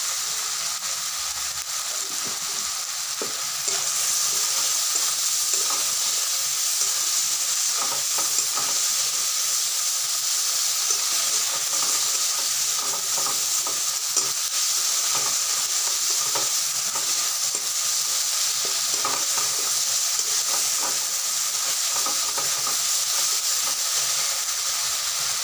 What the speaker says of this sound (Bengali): হালকা আগে মশলাটাকে কষিয়ে নিতে হবে